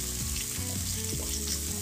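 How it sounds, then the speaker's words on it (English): Two chopped onions and green chilies fry in a pan with a loud, close, continuous sizzle and crackle, a few stirring scrapes breaking through. "I've taken 2 onions, cut into pieces, and fry the onions till the color changes."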